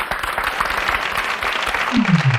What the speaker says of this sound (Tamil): அவருக்காக ஒரு நல்ல கைத்தட்டல் கொடுத்துருங்க